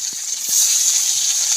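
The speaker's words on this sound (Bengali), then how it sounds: "এখন মাছগুলি ভেজে নেই" Fish frying in a pan, a steady bright sizzle close up with a couple of soft knocks of utensils at the start.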